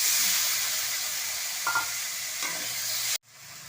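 Onions and tomato sauté in a pan with a loud, even hiss of frying, two faint spoon taps in the middle, and a sudden cut near the end before the sizzle picks up again more quietly.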